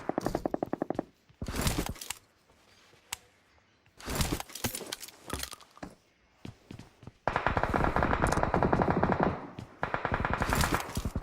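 Bursts of rapid automatic gunfire from the PUBG Mobile video game, loud rattling volleys separated by short pauses, with sustained firing toward the end and a few single shots in between.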